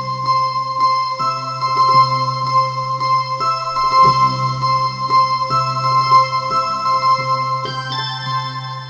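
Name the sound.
keyboard playing riff with choir sound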